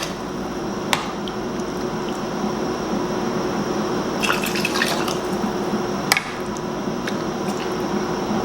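Broth and vegetables are spooned into canning jars for chicken stew, with close wet drips and liquid pours, a few sharp clinks of spoon on glass, steady and alone without talk.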